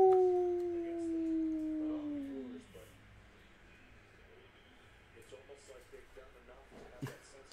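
Dogs howl loudly and nearby in one long, falling wail that fades out, followed by quieter room noise with scattered faint sounds.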